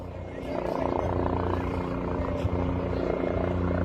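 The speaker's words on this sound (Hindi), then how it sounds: "हेलीकॉप्टर लैंड करने वाला है, आप देख रहे हैं।" A helicopter comes in to land over a village gathering, its rotor and engine drone building to a steady, loud roar with a faint rhythmic chop, sustained throughout.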